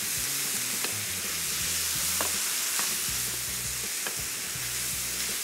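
Cooked beef for a cheese quesadilla filling being mixed in a sizzling pan, steady frying hiss with a few light scrapes of a spoon and a low background hum.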